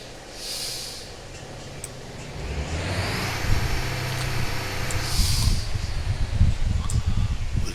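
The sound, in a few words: crane engine throttling up in the video game Motor Town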